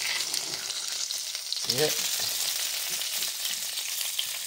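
Beef for tacos sizzles loudly and continuously on a griddle, a dense close crackle, with a brief short spoken word and some scraping around the middle.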